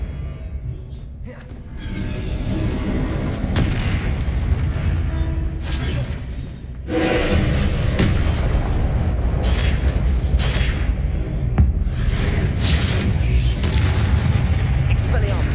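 Repeated blasting-spell explosions from Confringo in the Hogwarts Legacy video game: heavy booming blasts and rumbling bursts recur every couple of seconds over sustained loud combat noise, with voices talking throughout.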